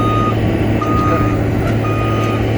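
A dump truck's reversing alarm beeps steadily and loudly over a constant low diesel engine rumble at an asphalt paving operation, the tones repeating without pause throughout.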